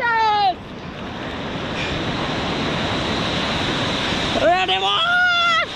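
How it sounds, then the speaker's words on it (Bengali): Ocean surf rolling and breaking on the beach at New Digha, a loud continuous wash of waves and wind buffeting the microphone, with people speaking briefly at the start and again near the end. "ঢেউ আসছে ভাই।"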